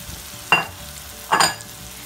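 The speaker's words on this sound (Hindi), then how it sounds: "अभी इसमें मैं कीमा ऐड करूंगी" Minced meat (keema) is tipped into a hot pan with masala, giving two short, close bursts of sizzle and stirring over a low frying hiss.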